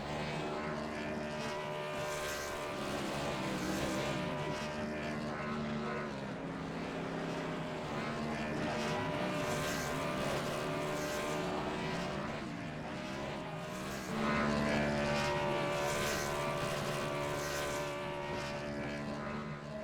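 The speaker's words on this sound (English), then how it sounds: "What a win, what a burnout for Ty Robertson." Race car burnout in an Xfinity Series racing video game at Phoenix International Raceway after a win, a steady loud engine drone and tire roar filling the whole stretch, swelling louder near the end, with no talk.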